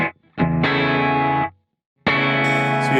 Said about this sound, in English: To turn that left, it's going to create a gated reverb.